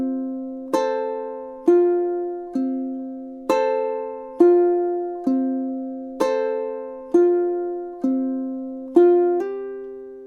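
Ukulele playing four measures of a Spirited Away song, with about a dozen clear, evenly paced strummed chords ringing alone, close and moderately loud.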